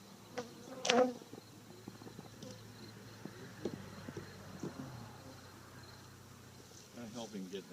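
Honey bees buzz at an opened beehive as the frames are worked with a hive tool; a steady, soft insect hum sits under occasional nearby voices and brief handling knocks.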